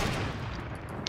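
A single gunshot goes off in an online shooter video game: one short, sharp report that fades quickly, fairly quiet and heard alone with no talking over it.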